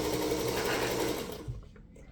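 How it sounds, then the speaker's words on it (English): Sewing machine stitching steadily through thick, bulky layers of fabric seam allowance while foundation paper piecing a quilt block, a continuous close whir that runs for about a second and a half, then stops. "And now we're sewing through a decent amount of bulk"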